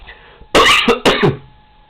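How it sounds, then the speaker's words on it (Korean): Two sharp, loud dry coughs in quick succession, close to the mic, with no talking. "이렇게 마른 기침이 나오지"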